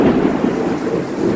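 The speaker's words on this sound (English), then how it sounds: "This is a big, bad storm." A big storm of thunder and heavy rain: a steady, loud roar of downpour with deep rolling rumble throughout, no voices.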